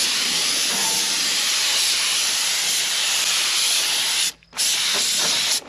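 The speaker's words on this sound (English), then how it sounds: "Sprays quite consistently." Komatsu paint sprayed onto a 1939 Caterpillar D4, a steady, loud hiss running continuously with one brief pause near the end before resuming.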